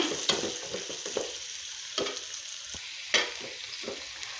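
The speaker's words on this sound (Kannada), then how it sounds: "ಇದಕ್ಕೆ ಅರಿಶಿನ ಮತ್ತು ಉಳ್ಳಾಗಡ್ಡಿ ಹಾಕ್ಕೋಬೇಕು ಹಾಕ್ಕೊಂಡು ಫ್ರೈ ಮಾಡ್ಕೋಬೇಕು" Onion and turmeric frying in a pan for a drumstick-leaf stir-fry, with a steady soft sizzle broken by repeated stirring scrapes and taps, close and quiet, with no speech.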